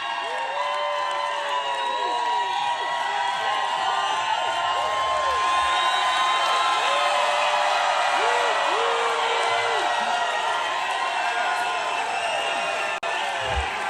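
A large rally crowd in Pennsylvania cheers, whoops and applauds continuously and loudly, a sustained roar with individual shouts rising above it throughout.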